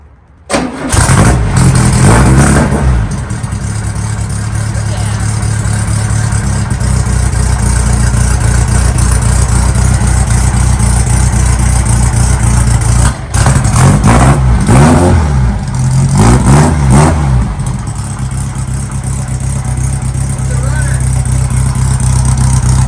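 An EMPI GTV car engine cranks and catches on a cold start, then runs loud and steady at close range, with a few throttle revs later on.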